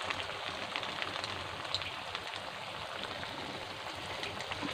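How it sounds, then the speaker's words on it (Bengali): Chhana (cottage cheese) kofta balls deep-fry in oil, making a faint, steady, rain-like crackle and fizz with no voices. "তো এবারে প্রত্যেকটা বলকে আমি ভেজে নেব।"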